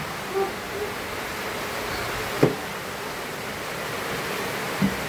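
Typhoon Kristine's wind storm roars as a steady, dense wash of noise, with a couple of brief, sharp knocks standing out against it.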